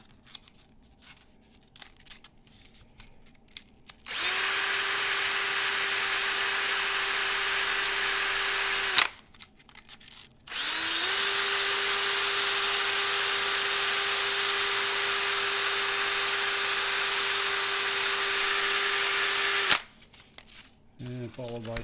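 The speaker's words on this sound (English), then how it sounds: "Put them in the drill." A power drill spins rusty die-cast toy truck axles against 220-grit sandpaper, giving two long, steady high whines separated by a short pause, with speech quietly before and after.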